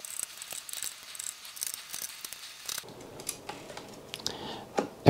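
Small screws are worked loose from a hard drive inside an HP laptop, giving faint close clicks, metallic ticks and scraping taps in an irregular rhythm, with a sharper clatter at the end.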